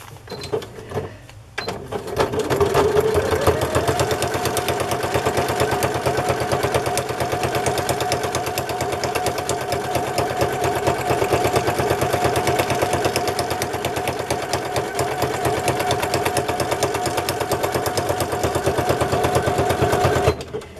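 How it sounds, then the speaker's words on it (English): A sewing machine stitches a crinkly Amazon envelope into a journal cover, starting after a short pause and then running as a loud, steady, rapid mechanical chatter up close for the remaining eighteen seconds. "Now as I sew on this edge"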